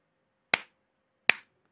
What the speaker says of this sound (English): When you hear that reverb from your clap